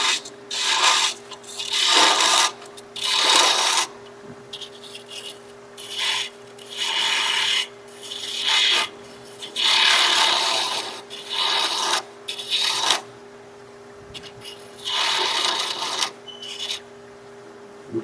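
A 3/8-inch bowl gouge cutting wood on a lathe while turning a hollow ornament, heard as repeated rasping, scraping passes in bursts of a second or two, close and fairly loud over a steady low motor hum.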